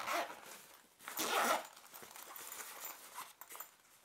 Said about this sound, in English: slide the zipper shut